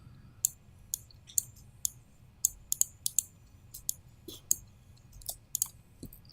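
Crisp mouse clicks while working in Adobe Illustrator, about fifteen sharp taps spread irregularly across the stretch, some in quick doubles, close and distinct over a low quiet hum.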